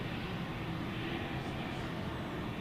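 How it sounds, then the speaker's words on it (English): Jet engines of a UPS Airbus A300 heavy freighter spooling for night takeoff at DFW Airport, a steady broad roar held at moderate distance for the whole stretch. "That A300 is scooted right over there and it's getting ready to take off."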